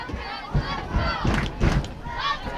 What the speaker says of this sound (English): This crowd now getting into it.